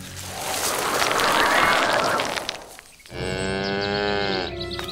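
Cattle low in a long, loud moo that swells and fades, followed by a second, more tonal moo after a brief pause, close by on a farm.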